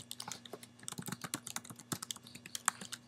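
An email address is tapped out on a computer keyboard, quick irregular clicks of keys in close succession, quiet and near, with no voices.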